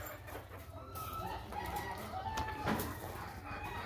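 Chickens and a rooster kept among dozens of hens in a farmyard cluck steadily and faintly, with a rooster crowing in the middle of the clip over low background noise.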